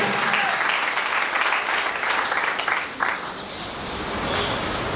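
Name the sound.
congregation applauding in church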